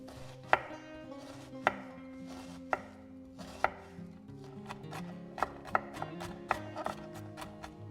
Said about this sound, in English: We finally dice one onion into small cubes.